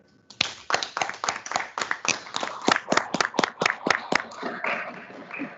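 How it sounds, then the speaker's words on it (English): A small audience at a young men's dialogue event gives a round of applause, a sparse burst of distinct hand claps that starts abruptly, keeps an uneven rhythm, then thins into a few scattered claps. "A round of applause once again"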